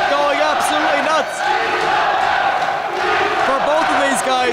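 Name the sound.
wrestling crowd cheering wildly at the SFX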